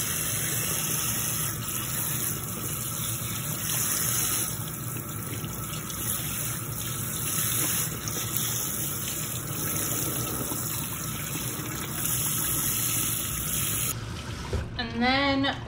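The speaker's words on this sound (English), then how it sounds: "Okay, so we're just gonna give this a little rinse." Tap water runs steadily into a sink, rinsing raw liver being prepared as homemade dog treats, a constant close rush with a brief splashing change near the end.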